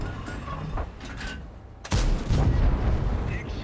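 A tank cannon fires in a tank video game featuring the Type 68 Japanese heavy tank, one sharp loud boom followed by a rolling rumble, with quieter battle ambience before it.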